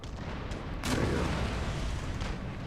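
A ship fires a cannon volley during a naval battle in Empire: Total War, a deep booming roar that swells suddenly and rumbles on, with no talking.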